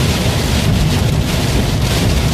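Heavy rain and wind during a live storm chase with damaging winds: a dense, loud, unbroken roar of downpour and gusts buffeting the microphone, with no voices.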